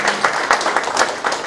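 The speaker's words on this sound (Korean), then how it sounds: "여러분 다시 한번 박수 부탁드리겠습니다." A crowd at a talk concert celebrating a mayor's 100 days in office claps together, close and loud, a brief burst of dense hand clapping with rhythmic swells.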